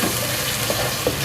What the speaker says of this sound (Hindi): अब हम इसको अच्छे से भून लेंगे, इन सब चीज़ों को इकट्ठा भून लेंगे